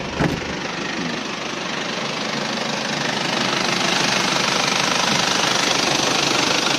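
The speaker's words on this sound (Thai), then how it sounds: "เดี๋ยวเรามาฟังเสียงเครื่องกัน" The 2.5-litre diesel engine of a 1993 Isuzu TFR pickup runs steadily at idle, a loud, continuous rough clatter with no voices over it.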